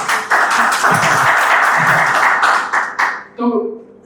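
Audience applause during a talk session in Raipur, steady dense clapping that fades out near the end as a voice begins speaking.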